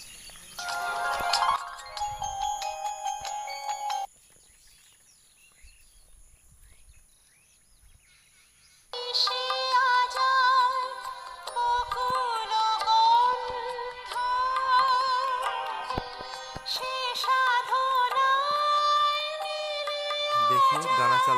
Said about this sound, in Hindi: देखिए गाना चल रहा है